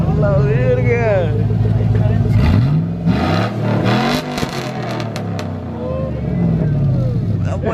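A pickup truck with its muffler deleted revs loudly and repeatedly, the raw exhaust roar rising and falling close by while people talk over it throughout.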